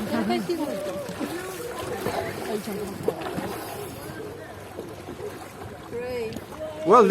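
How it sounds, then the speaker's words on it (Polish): A boat draws in at Comino's Blue Lagoon in Malta, its low engine rumble and water wash sitting beneath near, steady conversation that runs throughout. "No, moja łódka już przypłynęła."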